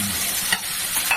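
Dal stirred in a pot with a spoon, a brief close sizzling hiss with a couple of soft scraping strokes.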